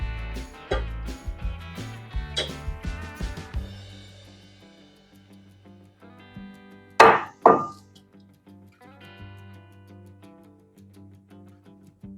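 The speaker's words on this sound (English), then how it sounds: "we're going to add flour and stir it as we add it" A wooden spoon knocks and scrapes against a pan as flour is stirred into boiling water, giving a run of sharp irregular clacks, then quieter stretches and two loud thuds, close by.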